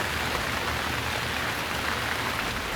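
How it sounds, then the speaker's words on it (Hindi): Heavy rain falling during a thunderstorm, a dense, even hiss that stays loud and unbroken throughout with no voices over it. "गरज चमक के साथ होने वाली तेज बारिश"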